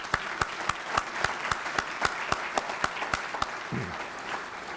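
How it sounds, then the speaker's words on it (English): Applause from an audience at a State of the County address, a steady patter of many hands clapping at moderate volume without any talking. "Let's give everyone a great round of applause."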